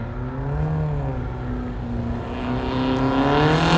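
Centaur GT race car fitted with a 2.4 litre six-cylinder Holden-based engine rebuilt by Wagon Engineering, heard at a historic racing event; a steady, loud engine drone holds throughout and swells slightly toward the end.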